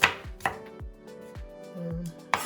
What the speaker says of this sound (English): I'm not cutting my onion in any style now, whatever